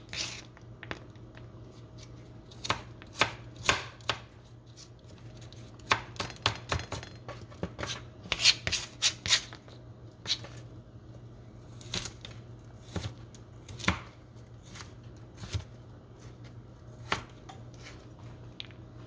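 A knife chopping carrots into cubes for chicken macaroni soup, with sharp, irregular taps on a cutting board, some in quick clusters and some spaced apart, close and clear over a low steady hum.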